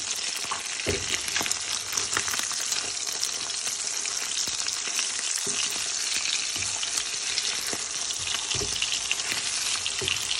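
Food fries in a pan on a home stove until browned, a loud continuous sizzle and crackle with occasional soft stirring knocks, no voices.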